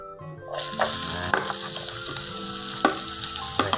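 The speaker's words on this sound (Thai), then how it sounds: "ข้าวสีเกียวหอมกับกระเทียมลงไปก่อนแบบนี้ก่อนที่จะผัด ผัดเนื้อนะ" Shallots and garlic stir-frying in hot oil, a steady loud sizzle that starts abruptly and carries on, with a few sharp clanks of a utensil against the pan.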